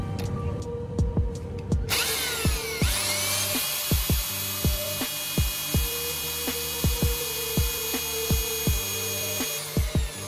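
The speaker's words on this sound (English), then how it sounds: "we're trying to get the hole drilled so we can install the screw with the washer" A hand drill bores a hole through metal on a Toyota Corolla Altis during a suspension and shifter cable job, a steady high whine holding for several seconds, punctuated by repeated sharp knocks and thumps from working nearby.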